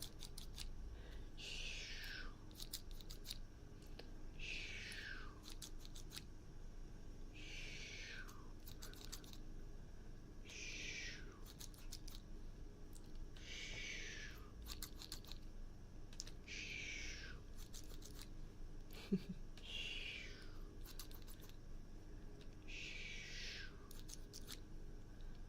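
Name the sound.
tiny scissors snipping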